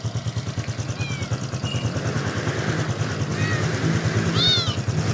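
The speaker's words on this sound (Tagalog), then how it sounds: "May pusa sa ilalim ng motor ko." A cat meows several times from under a motorcycle, short rising cries over a steady low engine idle rumbling close by.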